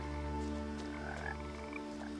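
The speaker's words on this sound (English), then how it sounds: "Frog noises, frog noises." Frogs croak in What Remains of Edith Finch, a steady layered chorus of calls over a continuous tonal game ambience, with no voices.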